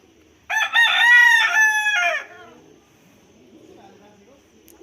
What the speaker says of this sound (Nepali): जङ्गली मुर्गा जस्तो लाग्छ मलाई.